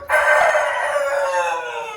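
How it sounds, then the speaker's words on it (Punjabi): A rooster crows once, loud and close, a long strained call that trails off. "ਕੁੱਕੜ ਨੇ ਦੇਤੀ ਬਾਗ"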